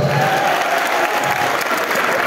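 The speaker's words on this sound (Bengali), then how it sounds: "একটা জোরে হাত তালি হোক স্যারের জন্য।" Loud, sustained applause from an audience at a textile company's annual cultural program, dense, steady clapping that fills the hall throughout, with no speech over it.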